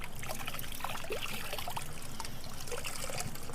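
Hot water runs and trickles steadily from a tap or hose, a continuous splashing flow close by with no voices.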